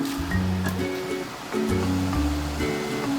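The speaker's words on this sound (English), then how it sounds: "we're gonna let that boil before we put our pork in" Pot of water with a green tea bag and four to five garlic cloves at a rolling boil, bubbling and gurgling in uneven surges, close and steady with no voices.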